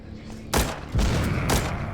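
Bombs exploding in the video game The Walking Zombie 2: three heavy booms in quick succession, each a broad loud blast with a rumbling tail, close and with no talk.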